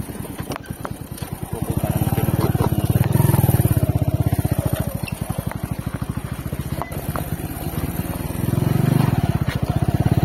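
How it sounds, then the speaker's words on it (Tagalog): A motorcycle engine putters steadily up close, swelling and easing in loudness as the ride continues over bumpy farm ground, with uneven surges. "Dahan-dahan mo lang kapag mga bako. Lumilipad yung motor mo eh."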